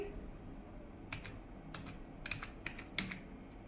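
A computer keyboard is typed on in short, faint clicking bursts, a few keystrokes at a time with small gaps between them, over a quiet room hiss.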